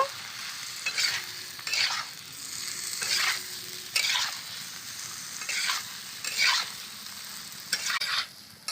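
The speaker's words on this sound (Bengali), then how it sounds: "এবার ভেজে রাখা আলুগুলো দিয়ে দেব মশলার সাথে ভালো করে নেড়ে নেব" Fried potatoes are stirred with spices in a pan for aalu posto, a steady sizzle with regular scraping strokes about once a second, close and clear, with no talking.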